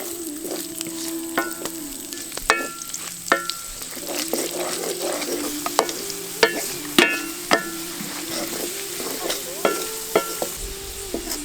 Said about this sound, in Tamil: இப்போ கொஞ்சம் நெய் ஊற்றி முந்திரி திராட்சை ரெண்டையும் இப்போ நல்லா வறுத்து எடுத்துக்கலாம்